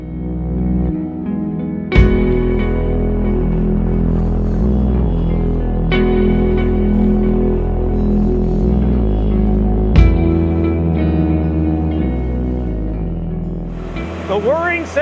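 A steady, loud mechanical whir from 1,800 Bitcoin ASIC mining servers in a large warehouse facility, with a constant droning hum and pulsing low tones throughout and a few brief clanks, no voices heard.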